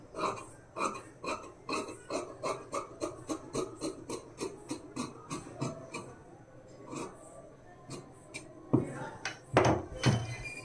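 Scissors snip through blouse fabric in a quick, regular series of crisp close cuts, then slow to scattered snips and a couple of louder handling clatters near the end.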